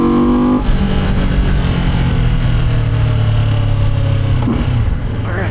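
A Benda Dark Flag 500 motorcycle with a V4 engine drones loudly and steadily while being ridden, its pitch shifting briefly near the end as the revs change, with no talking.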